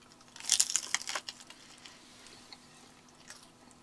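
Crunchy bites into a Doritos Locos taco with hot sauce at a campsite near the Mexican border, a loud crackling crunch up close followed by softer, quieter chewing.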